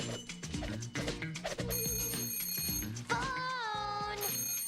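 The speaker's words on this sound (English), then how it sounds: "Phone!" A telephone rings in a Powerpuff Girls cartoon, a bright repeated bell tone over busy cartoon music and effects, fairly loud and continuous.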